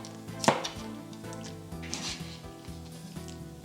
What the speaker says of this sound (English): We're going to coarsely chop once again.